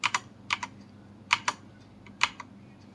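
Keys clack on an Ant Esports MK3500 mechanical keyboard in sharp, close strokes that come in quick pairs with short gaps between them.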